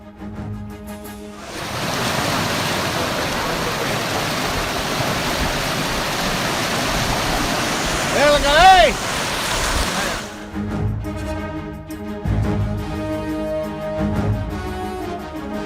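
Loud, continuous rushing floodwater from heavy rain surrounding houses roars for several seconds, with a short whistling tone partway through, before fading into quieter background voices.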